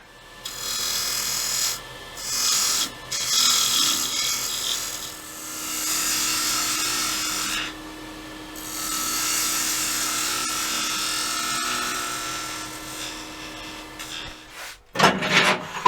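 A wooden pear vase being worked on a lathe jam chuck gives a loud, steady rasping and rubbing of wood against tool. It runs in long stretches broken by short pauses, with clattering handling noises near the end.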